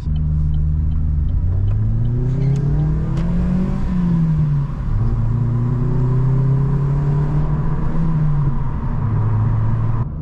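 A Corsa E with a loud exhaust hums and rumbles loudly up close while driving, its pitch rising and falling through gear changes as the exhaust drones underneath.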